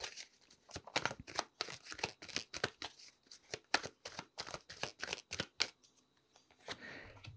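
A deck of tarot cards is shuffled close up, with quick riffling bursts and crisp snapping card slaps in an uneven rhythm before a brief pause.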